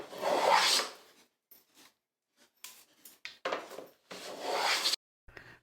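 Hand tool cutting a three-bead wooden trim, working around the radius on either side of the center: several bursts of rasping, scraping strokes, two long and loud, the rest short and quieter, with no talk.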